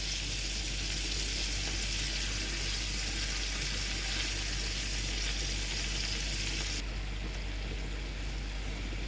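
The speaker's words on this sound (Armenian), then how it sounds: "կափարիչով ծածկում եմ, մարմանդից մի քիչ բարձր կրակով ենք եփում" Meat cutlets fry in a covered pan over a moderately high flame with a steady, dense sizzle that crackles evenly throughout, and no voices are heard.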